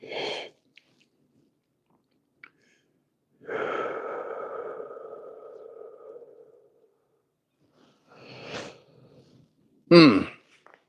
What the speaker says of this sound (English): Breathing this cold air.